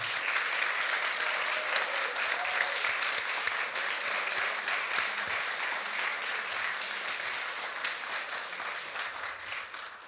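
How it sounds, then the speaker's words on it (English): A large audience at the Seamus Heaney Award for New Writing 2023 announcement applauds the longlisted writers, a sustained, dense wash of clapping that holds steady for about ten seconds before easing slightly, with no voices over it. "I would ask you to applaud all the long list, please."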